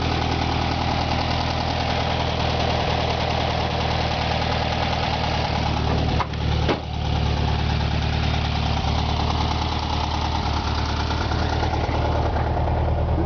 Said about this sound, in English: The engine runs great.